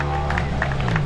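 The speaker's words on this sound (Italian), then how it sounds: "un grosso applauso anche a loro." A crowd at a rally awards ceremony claps in steady, moderate applause for the second-place Skoda Fabia crew, a continuous patter of hands with some murmuring voices mixed in.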